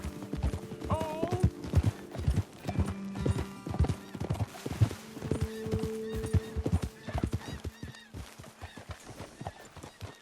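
Horses ridden at speed in the video game Red Dead Redemption 2, dense rhythmic hoofbeats close and loud throughout, with brief neighs and snorts, and no talk.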